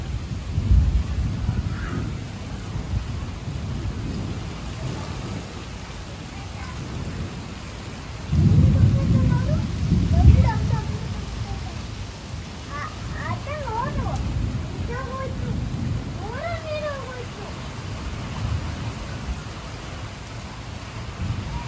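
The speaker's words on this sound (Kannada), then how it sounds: "ಮಳೆ ಸ್ಟಾರ್ಟು, ನಮಗೆ ಕೂಲ್ನೆಸ್ ಸ್ಟಾರ್ಟ್" Heavy rain falls with rolling thunder, deep rumbles swelling and fading several times over a constant hiss of rain, while voices are heard faintly underneath.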